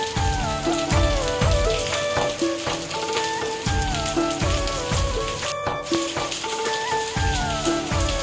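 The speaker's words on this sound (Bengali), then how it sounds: "এখন ঝপঝপিয়ে বৃষ্টি এসছে মুসুলধারে বৃষ্টি হচ্ছে" Heavy monsoon-style downpour of rain, a dense, steady hiss and patter that runs unbroken and fairly loud throughout, with no voices over it.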